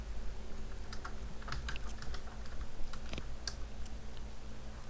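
Keys on a computer keyboard clatter in quick, uneven bursts of close typing over a steady low background hum, with no speech.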